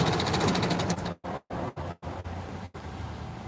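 A sewing machine running steadily while stitching layered fabric face masks, then stopping and starting in several short bursts with brief silent gaps, close and moderately loud.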